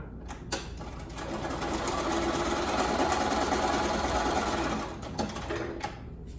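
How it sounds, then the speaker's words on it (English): A sewing machine stitching pieces of a patchwork pumpkin quilt block runs in one continuous whirring burst of about four seconds, close and steady, with brief clicks and handling before and after. "I'm gonna first sew this piece to the leaf so that we get a full block out of it."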